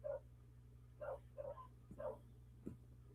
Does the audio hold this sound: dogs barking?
yes